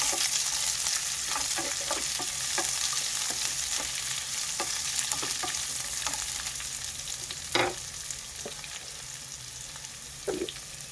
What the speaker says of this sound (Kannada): ಈಗ ಇದಕ್ಕೆ 2 ಮೀಡಿಯಮ್ ಸೈಜ್ ಈರುಳ್ಳಿನ ಹಾಕ್ಕೊಂಡಿದ್ದೀನಿ ಕಟ್ ಮಾಡಿ. ಸೊ ಇದು ನಮಗೆ ಚೆನ್ನಾಗಿ ಫ್ರೈ ಆಗಬೇಕು.